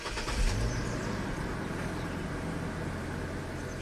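A GMC Envoy XUV engine idles steadily, a close low rumble that holds constant throughout with no revving.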